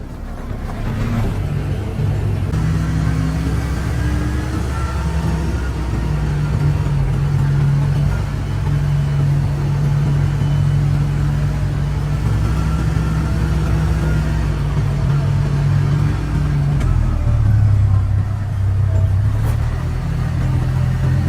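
A CFMoto Uforce 1000 side-by-side with a vented windshield on a test drive, its engine a loud, steady close rumble with mild rises in revs and wind noise throughout, no voices.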